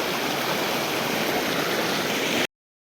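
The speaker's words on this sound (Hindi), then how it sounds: "देखिए गंगा माँ खलखला रही हैं, मतलब कितना अच्छा पानी है।" River water flowing and gurgling, a steady close rush and babble of a clear stream that runs alone at constant loudness for a few seconds, then cuts off abruptly.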